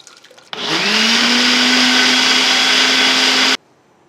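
A kitchen mixer grinder blends a cooled, cooked spice mixture into a paste, switching on abruptly with a loud, steady motor whine that runs for about three seconds before cutting off, close and with no voices.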